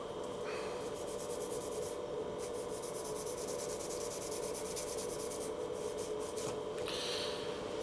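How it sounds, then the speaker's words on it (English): A small Scotch-Brite pad scrubs a fresh solder joint on a model boiler band. Quiet, close, steady rubbing with a rapid rasping rhythm in the middle, heard alone without talk. "I'll just clean that up with a little piece of Scotch-Brite"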